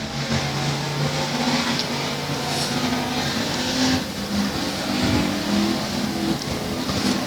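Race cars circle the oval at Rose Bowl Speedway in a dense, continuous engine roar with rising and falling revs as cars pass, loud and close throughout.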